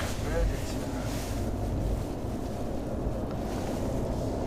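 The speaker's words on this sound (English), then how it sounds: "today's been very windy" Steady wind roars across the microphone in a continuous low rumble, with a louder buffet near the start and no pauses.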